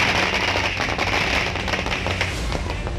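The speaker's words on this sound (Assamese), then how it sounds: "ইয়াৰ বাবে বিলাসীপাৰাত এইদৰে কোচ ৰাজবংশীৰ একাংশ প্ৰতিনিধিয়ে ফটকা ফুটাইছে।" Firecrackers set off by Koch Rajbongshi community representatives celebrating in Bilasipara, Assam: a loud, dense, continuous crackle of rapid overlapping bangs that holds steady throughout.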